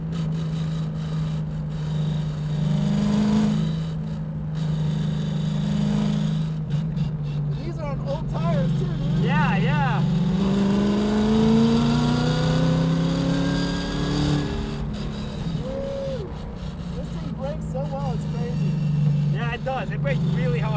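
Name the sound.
Ford Mustang S550 RTR track car driving at Apex Motor Club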